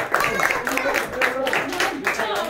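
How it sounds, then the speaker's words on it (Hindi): Loud clapping for the winner of a challenge at a birthday gathering, dense rapid hand claps filling the space with voices mixed in. "सब ले जोरदार तालियां हुसैन भाई को लगी।"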